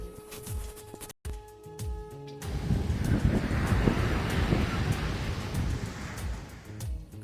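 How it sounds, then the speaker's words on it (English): Strong seaside wind roars steadily across the microphone, with a broad rushing noise that could include high, choppy surf, loud and continuous after a brief quieter start. "Today the seaside is very windy with high choppy waves coming in."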